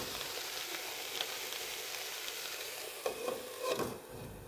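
Brinjal pepper roast masala sizzles steadily in a pan, with soft scraping and stirring strokes building into a few louder clatters near the end; no voices.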